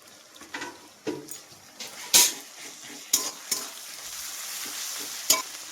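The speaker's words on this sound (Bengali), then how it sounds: "পেঁয়াজ আর রসুনটা একসাথে ভাজবো আরও 5 মিনিট" Onion and garlic paste frying in a pan for mutton curry, with a steady sizzle under repeated scraping stirs and sharp clinks of a spoon against the pan, close and fairly loud.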